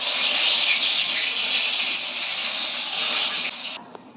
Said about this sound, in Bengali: এর মধ্যে আমি একটু সর্ষের তেল দিয়ে দেবো, পটলগুলোকে এবার ওর মধ্যে ছেড়ে দেবো